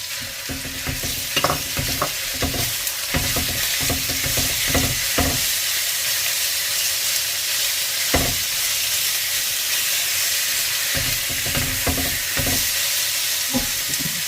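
Beef stir-frying in oil in a pan, a steady loud sizzle with repeated scraping stir strokes and clatter throughout, no voices.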